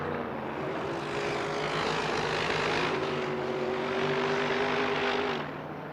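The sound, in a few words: turbocharged racing boat passing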